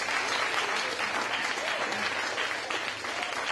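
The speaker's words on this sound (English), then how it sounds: "give yourselves a big round of applause" An audience applauds steadily and densely throughout, a broad wash of clapping with faint crowd noise and some voices underneath.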